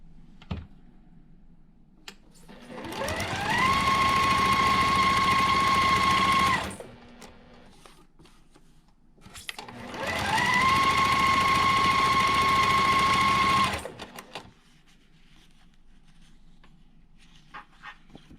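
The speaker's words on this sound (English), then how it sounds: "So I'm going to go ahead and keep stitching all of those together." A sewing machine stitching quilt squares together for a block-of-the-month quilt, running in two sustained bursts of a few seconds each with a steady whirring hum, close and loud, separated by a short pause.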